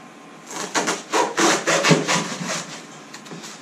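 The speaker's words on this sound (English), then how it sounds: "A hacksaw makes short work of this" A hacksaw cuts through a foam pool noodle in a quick run of close, rasping strokes, about a dozen back-and-forth pulls over a few seconds with no talking.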